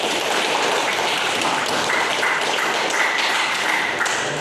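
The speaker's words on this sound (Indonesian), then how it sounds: "Kasih tepuk tangan buat Upi." Classmates in a classroom applaud, a dense, even wash of clapping from many hands, steady and fairly close throughout.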